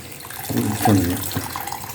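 Tamarind water is poured into a cooking pan of sautéed onions and tomatoes for a brinjal kothsu, a short splashing gush of liquid lasting about a second amid light kitchen background noise.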